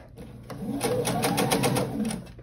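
Sewing machine stitching binding onto a quilted clutch wallet runs in a fast, steady burst of close mechanical needle clatter for about two seconds, starting and stopping abruptly.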